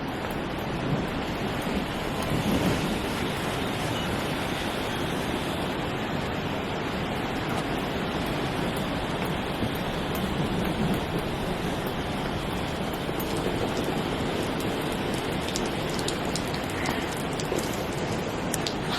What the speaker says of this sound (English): I'm going to take my hose and wet these down